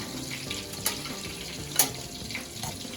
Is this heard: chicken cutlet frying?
yes